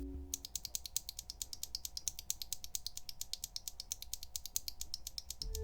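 Azure Dragon V1 and V2 mechanical keyboard switches, one with a POM and one with a PA66 nylon housing, clack in a fast, steady run of crisp keystrokes, close up and alone.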